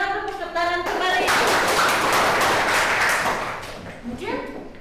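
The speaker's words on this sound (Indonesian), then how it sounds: "Silakan tepuk tangan kembali." Audience applause in a classroom or lecture hall, a dense burst of clapping lasting a few seconds between stretches of speech.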